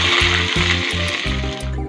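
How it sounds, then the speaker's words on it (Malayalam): Curry leaves hit hot coconut oil with popped mustard seeds and fenugreek for a kumbalanga moru curry, giving a loud, steady, crackling sizzle that fills the whole moment with no talk. "ഇനി ഇതിലേക്ക് ആവശ്യത്തിന് കറിവേപ്പില ഇടാം."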